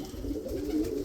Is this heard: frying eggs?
no